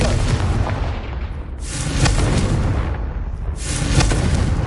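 Two heavy blasts from the Confringo explosion spell in the video game Hogwarts Legacy, each a loud booming burst with a rushing tail, spaced about two seconds apart.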